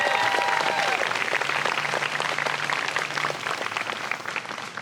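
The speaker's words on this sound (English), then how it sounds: "Let's have a round of applause for them." Sustained applause from a large audience at a university diploma ceremony, honoring the graduating class of 2021; dense, steady clapping that fills the room and tapers slightly near the end, with no talk over it.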